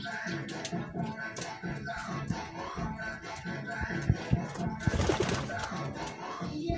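Racing pigeons at a club release coo and flutter close by, a busy layered chorus of throaty calls with a burst of wing flapping midway, under faint background voices.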